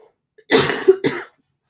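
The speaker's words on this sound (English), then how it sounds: "that made me cough" A person coughs twice in quick succession, close and loud, a harsh burst followed by a shorter second cough, with silence before and after.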